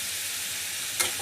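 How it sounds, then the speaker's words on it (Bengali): Coral fish fry in a hot pan with a close, steady sizzle and crackle, plus a brief stirring scrape near the end. "কাঁচা মাছই আজকে রান্না করব, ভেজে নিয়ে সুন্দরভাবে নেড়ে চেড়ে নিয়ে মাছগুলো দিয়ে ভালোভাবে কষিয়ে নিয়ে"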